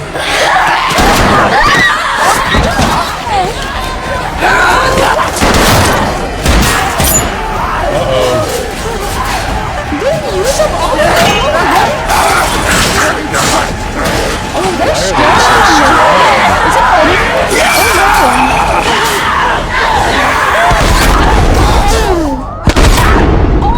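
Gunfire from The Last of Us TV series episode, loud chaotic bursts with crashes and shouting, heard through a speaker while people in the room react and talk over it.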